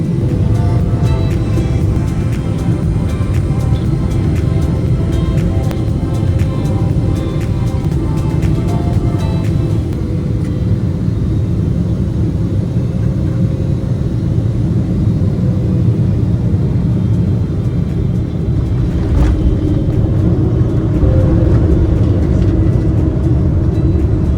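A heavy, constant engine and airflow roar fills the cabin of an Air India Boeing 777-300ER as it descends to land at London on a business class flight from Kochi. The sound stays loud and steady, shifting slightly partway through.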